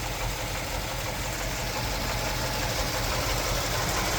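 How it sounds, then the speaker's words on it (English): A 1954 Buick Super Riviera engine idles steadily and evenly, a continuous low rumble with a slight rhythmic knock, close and unchanging throughout. "Engine sounds really healthy."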